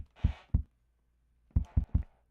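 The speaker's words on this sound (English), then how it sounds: "you can all hear that kick drum now" Kick drum from a Polyend Tracker Mini: soft, low thumps in two short groups, two hits and then three, sounding quiet and boomy with gaps between.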